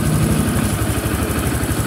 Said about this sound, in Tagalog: Tahimik na yung makina ng Honda Click 150.